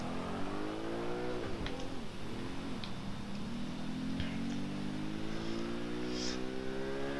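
A supercar engine in the video game Watch Dogs Legion drones steadily at close range with a continuous hum, dipping and swelling briefly as the car shifts and accelerates.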